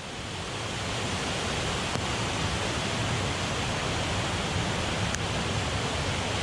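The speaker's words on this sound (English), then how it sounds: "Going towards the waterfall." Cauldron Falls on a rainy day, a steady broadband roar of falling water rushing continuously and loudly close by, with no voices over it.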